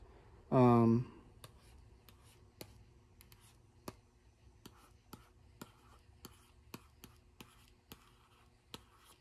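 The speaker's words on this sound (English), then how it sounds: "this is still a Wacom touch pen enabled device" A Wacom pen tapping and stroking across the touchscreen of a LifeBook T730 laptop, heard as faint, scattered ticks and short scratches at close range after a brief tonal sound at the start.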